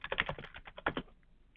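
Quick run of computer keyboard keystrokes as a password is typed, a dense burst of close, crisp clicks that thins out and stops partway through, with no talking.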